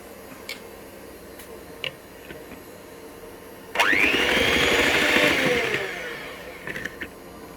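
An electric mixer beating butter with orange and lemon zest and sugar, starting abruptly with a loud whirring drone that holds for about two seconds before winding down, preceded by a few light clicks.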